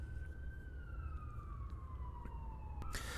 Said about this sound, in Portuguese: tem uma ambulância passando na rua, como vocês podem ouvir